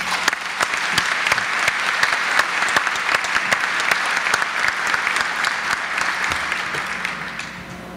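An audience at a 2011 UNLV State of the University Address breaks into sustained clapping, a dense, steady round of applause that tapers off near the end.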